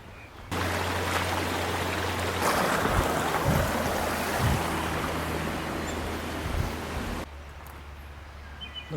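A river running below a high bank beside a road gives a steady, broadband rush of flowing water, close and continuous for most of the stretch, with a low hum underneath and a quieter ending.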